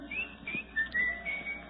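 Someone whistles a tune, short rising and falling phrases carried alone at moderate loudness in a quiet room.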